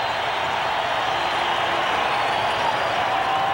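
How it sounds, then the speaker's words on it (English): A stadium crowd roars at an NFL game between the New England Patriots and the Denver Broncos in Denver, a steady, dense wall of cheering that holds at one loud level without a break. "And listen to that crowd."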